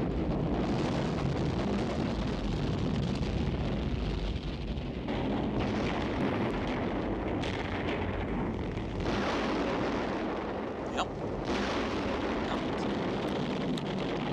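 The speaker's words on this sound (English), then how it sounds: "So the ship's exploding." A spaceship explodes in a science fiction film, a continuous loud, rumbling roar of blasts and crackling debris with surging bursts that sustains steadily throughout.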